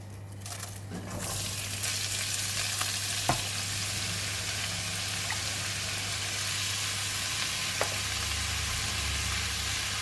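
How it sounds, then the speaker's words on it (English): Shredded cabbage stir-fries in a hot pan, a soft continuous sizzle with a few sharp clicks of the utensil against the metal, under a steady low hum. "We're going to stir fry until the cabbage becomes soft."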